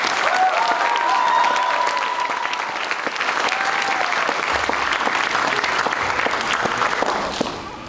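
A graduation ceremony audience gives sustained applause for the evening's speakers, a dense, loud wash of many hands clapping with faint cheers, tapering slightly at the end.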